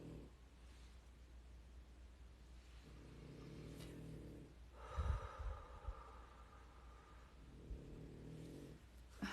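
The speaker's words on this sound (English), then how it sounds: "I wish my dog would stop snoring for a second." Slow, rhythmic dog snoring rumbles close by, each drawn-out breath rising and fading, with a louder snort-like breath partway through.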